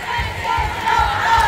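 A concert crowd shouts along loudly in rhythmic bursts, a dense wall of many voices answering a performer's call, close and sustained with repeated surges.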